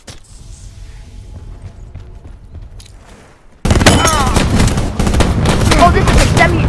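Rapid semi-automatic gunfire in a Black Ops 4 Blackout video game battle, starting suddenly after a quieter stretch and continuing as dense, loud, overlapping shots to the end.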